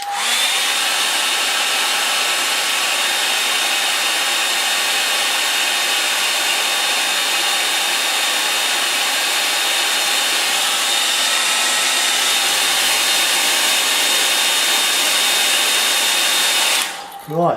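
A hair dryer blows steadily and loudly on a painting for about seventeen seconds, a continuous broadband whir with a faint high whine, cutting off abruptly near the end.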